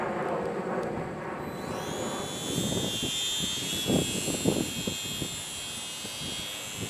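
Hobbyzone Sport Cub S RC airplane, landing gear off, its electric motor and propeller spinning up to a high-pitched whine that holds steady, close by, with rustling handling noise underneath.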